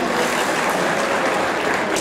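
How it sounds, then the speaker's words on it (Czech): A crowd at a formal ball in Kroměříž applauds, a loud, dense, continuous roar of clapping hands that stays full and even from start to finish. "pojďte ještě jednou zatleskat"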